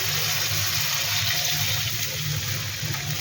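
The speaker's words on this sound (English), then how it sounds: "Now I'm going to add some water." Water poured into a pan of Kerala fish curry, a continuous loud rushing splash that stays even from start to finish, close by with no speech.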